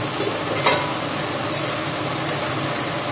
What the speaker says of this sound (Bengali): এটা একটু নাড়াচাড়া করে পোস্ত চাল মগজ দিয়ে নামিয়ে দেবো